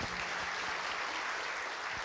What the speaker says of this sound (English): we can clap for him anyway because he's doing a great thing